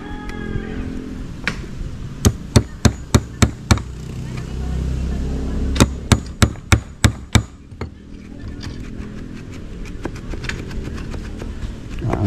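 A hammer drives nails during hands-on construction work, landing two quick runs of about five or six sharp, ringing blows each, close and loud, with low background noise and some faint voices between the runs.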